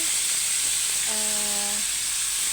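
Potatoes marinated with pepper, paprika and salt sizzle steadily in hot frying oil, a constant close hiss with a brief tonal hum partway through.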